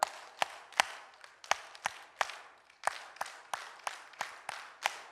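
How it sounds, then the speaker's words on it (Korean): A church congregation claps in unison in the 3-3-7 pattern, two groups of three sharp claps followed by a run of seven, crisp and evenly spaced. "337 박수 시작."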